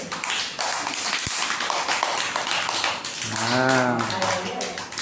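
Rapid hand claps and taps ring out in a steady patter from a group of people, mixed with voices and a brief sung or spoken phrase.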